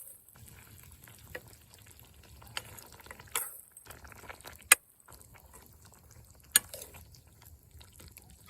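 Meat cooks in a pot on a home stove with a soft, faint simmer, broken by a few sharp clinks of a utensil against the pot. There is no talking.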